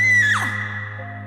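Two girls scream loudly in a Hindi horror story, a single sharp shriek that rises and then sweeps downward over a steady tonal background hum, with no talk.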